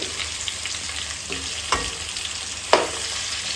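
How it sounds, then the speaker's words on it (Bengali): Taro pieces frying in oil in a pan over low heat, a steady close sizzle with a few sharp spatters and pops standing out, no voices. "একটু ভাজতে একটু সময় লাগে, অল্প জালে ভাজতে হয়।"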